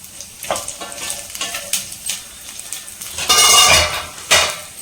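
Three vadai frying in a pan of oil on high flame, a steady bright sizzle with scattered clinks and stirring scrapes, swelling louder near the end.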